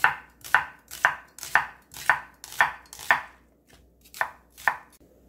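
A knife chops vegetables steadily on a cutting board, about a dozen crisp, evenly spaced strikes with a short pause before the last few, while preparing gochujang pork bulgogi.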